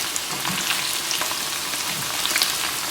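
Okra for bhindi masala fries in a pot with a steady, close hiss of sizzling oil and a few faint stirring taps, without any talk.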